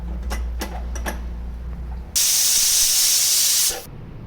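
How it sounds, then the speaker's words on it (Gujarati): A pressure cooker whistle fires on a gas stove while rice cooks. A loud, sustained steam hiss cuts in abruptly, holds for about a second and a half, then stops sharply. Faint clicks and a low hum come before it. "હવે કુકરનું ઢાંકણ બંધ કરી મીડિયમ ગેસ ઉપર આની 2 વિસલ કરશું."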